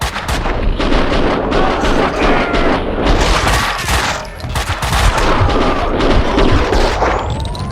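Sustained heavy gunfire from the Max Payne 2 video game, dense overlapping shots and booming impacts rolling loud and continuous throughout, with no speech.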